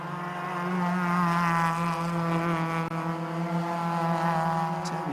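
Fiesta Junior Championship race cars at Brands Hatch, heard through Surtees and into McLaren as a steady, loud, droning engine note that holds evenly for several seconds.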